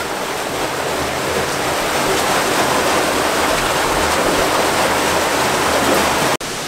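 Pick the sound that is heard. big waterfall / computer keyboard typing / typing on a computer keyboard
big waterfall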